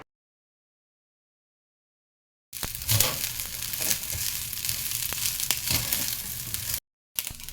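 Fried rice with soy sauce sizzles and crackles steadily in a pan after a silent start, a close, continuous frying hiss with occasional stirring scrapes, cut briefly near the end.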